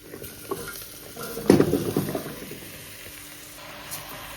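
Pumpkin being stirred in a pot for soup, with a soft scraping and sizzling swell in the middle as the pieces are turned, then a quieter simmering hiss with an occasional light clink near the end.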